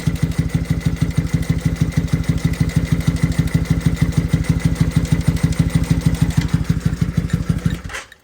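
A 2001 Kawasaki NV750 motorcycle engine runs at a steady idle with an even, rapid low-pitched pulsing throughout, cutting out abruptly at the very end.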